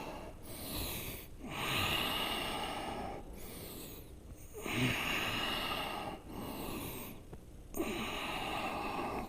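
Slow, deep breaths drawn in and pushed out during a yoga back bend (Shalabhasana), with three long audible breath cycles and hoarse, airy exhales close to the listener, no speech.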